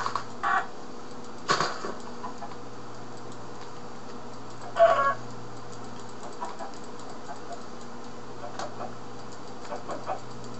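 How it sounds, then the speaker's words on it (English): Short clucking bursts from a chicken in the blocky Skyrimcraft Minecraft game, heard a few times over about ten seconds against a steady low background hum, with no talk. "So nice being able to hit a chicken."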